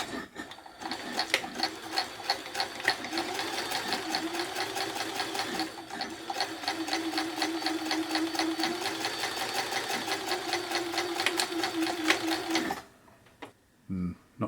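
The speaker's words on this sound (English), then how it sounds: "I'll select straight stitch here, and effectively I want to sew just to the left of the black stitching there of the overlocking stitch." A Janome Combi sewing machine runs a straight stitch beside overlock stitching, a fast, even mechanical chatter at close range that stops abruptly near the end, followed by a couple of soft handling sounds.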